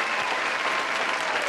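A short burst of dense clapping in a podcast setting, continuous and fairly loud for a moment with no voices over it.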